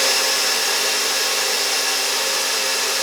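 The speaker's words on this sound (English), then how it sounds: "you can see how much the drill is vibrating because the bit is like uneven" A drill spins a bit that runs unevenly and wobbles, giving a loud, steady broadband whir that holds without pause for about three seconds and then cuts off abruptly.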